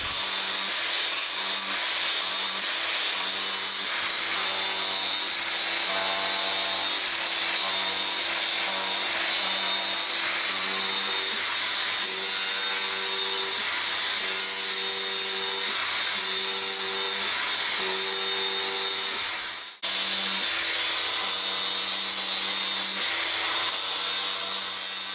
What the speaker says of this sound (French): on vient de finir la passe là avec donc la meuleuse avec un disque ici